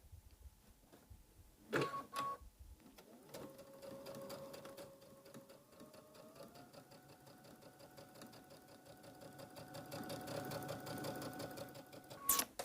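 A sewing machine runs a quarter-inch seam along the edge of a star-shaped pillow with a steady, quiet whirring hum that speeds up gradually. Brief clicks and handling noises come at the start and the end.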